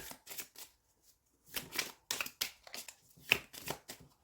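Tarot-style oracle cards shuffled by hand, a series of quick papery riffling bursts with short pauses between, close and fairly quiet, no talk.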